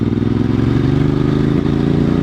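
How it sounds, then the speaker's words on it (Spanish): Moto Morini X-Cape 1200 motorcycle idling close by with the clutch pulled in, a steady loud engine throb that swells briefly as the throttle is blipped, then settles back. "coger embrague y darle un golpecito de gas para que no sea brusco"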